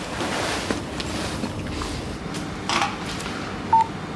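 A phone being dialed indoors, its keypad tones beeping briefly and sparsely over a low room hum, fairly quiet with no voices.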